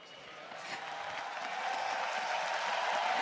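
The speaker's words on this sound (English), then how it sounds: "Cheering for the analyst desk." A crowd at an esports event cheers and applauds the analyst desk, a broad steady roar that swells slightly toward the end, with no clear talk over it.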